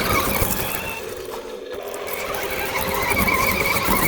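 A Bigfoot-style RC monster truck runs on an RC track, its small motor giving a steady, high-pitched whining squeal that carries on loud and close throughout.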